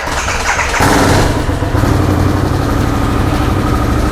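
A Harley-Davidson Sportster S fitted with an expensive aftermarket exhaust starts up close by, a cranking burst followed by a loud, rumbling idle that settles into a steady throb.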